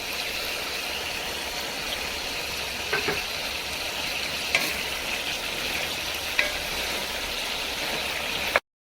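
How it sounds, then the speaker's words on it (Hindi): Chicken feet frying in a pan with korma masala, a steady close sizzle with occasional soft scraping clicks of stirring, continuous and even throughout with no talking. "2 टीस्पून कौरमा मसाला ऐड कर देंगे।"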